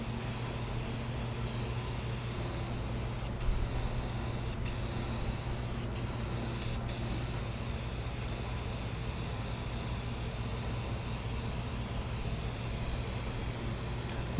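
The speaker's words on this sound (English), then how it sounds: "We'll just cover this up with some Rust-Oleum paint." Rust-Oleum spray paint hisses steadily onto the bodywork of a 1990 Ford F350 truck, a continuous close spray lasting the whole stretch with a few brief sharp breaks, over a low constant hum.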